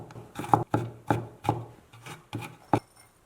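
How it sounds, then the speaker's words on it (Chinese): Kitchen knife chopping garlic cloves into fine bits on a cutting board, a series of close, crisp taps in an uneven rhythm with short pauses, no voices. "蒜切成末"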